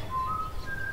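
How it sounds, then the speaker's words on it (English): A faint melodic whistle drifts through a quiet room in Bendy and the Ink Machine, a few sustained tones sliding between pitches over a low steady hum, heard alone without talk. "someone's been whistling here this whole time"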